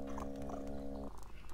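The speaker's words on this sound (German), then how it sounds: "ich möchte sofort die Katze streicheln" A cat in the video game Phantasmagoria makes a steady, voiced purr-like drone for about a second, which then stops under low room noise.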